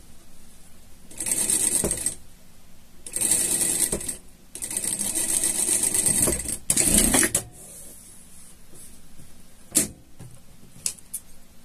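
A sewing machine topstitches a pocket on a fabric pet harness in three bursts of rapid whirring stitches separated by short pauses, followed by a few faint clicks and taps.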